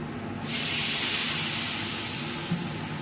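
Water poured into a hot pan of poppy seed paste seasoned with Kashmiri chilli, a sudden loud hissing sizzle that starts after a brief pause and slowly eases off, close and without talk.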